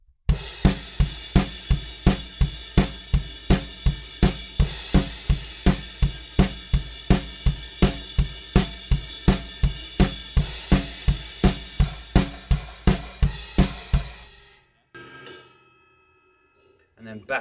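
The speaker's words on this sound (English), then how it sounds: "we're on the ride, still keeping that thumping bass drum on all the quarter notes" A drum kit plays the post-chorus of a song, with a steady thumping bass drum on every quarter note, the ride cymbal going, and crashes landing near the end. The playing is close and loud, then stops sharply into a brief quiet tail.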